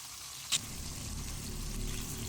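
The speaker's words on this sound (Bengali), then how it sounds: "ভালোভাবে ভেজে নিচ্ছি।" Sarpunti fish, fresh pond fish, fry in hot oil with a soft, steady sizzle and one brief sharp pop near the start.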